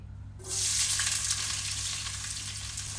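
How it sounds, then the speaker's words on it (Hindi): A large sliced onion hits hot mustard oil in a pan for a marrow chicken curry, bursting into a loud, close sizzle that carries on steadily after a brief quiet start. "अब इसके अंदर मैं एक बड़े साइज़ का प्याज डाल रही हूँ, इसको मैंने स्लाइस कर लिया है।"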